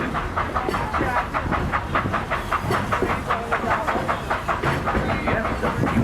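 The Walt Disney World Railroad train rumbles along at the Magic Kingdom with a steady clickety-clack rhythm and a hiss of steam, loud and close throughout.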